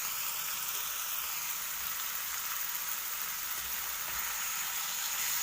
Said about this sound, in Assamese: মাছখিনি দি মই ভালদৰে লৰাই দিছোঁ।